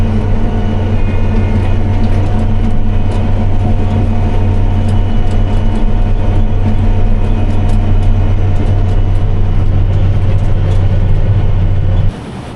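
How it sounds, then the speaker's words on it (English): A forklift drives along a gravel road, its engine giving a loud, steady low rumble that holds unbroken for about twelve seconds before dropping off abruptly at the end. "there's a forklift driving down the gravel road"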